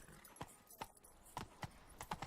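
Roach, Geralt's horse in The Witcher 3, running: a faint, steady series of hoof clip-clops, about eight sharp beats in an uneven gallop rhythm, heard alone with no talk.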